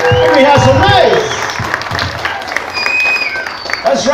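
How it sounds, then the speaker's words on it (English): Audience applause at a welcome center event for a beauty pageant queen, mixed with crowd voices and cheers, fairly loud and close, thinning slightly toward the end. "Give her a bigger round of applause"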